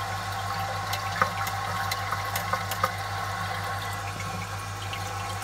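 A toilet cistern refilling after a flush, its valve adjusted lower on the hook: a steady rushing hiss of running water with a constant low hum and a few faint clicks, continuous and close, with no talking.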